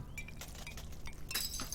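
Dishes smashing in the video game Genital Jousting, a quiet clatter of breaking glass and crockery with sharp chinks and cracks over a low game background hum.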